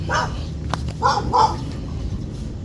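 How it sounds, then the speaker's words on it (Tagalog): A dog gives a few short barks or yips at a construction site, with three quick bursts close by over low background hum. "Mayroong aso, no."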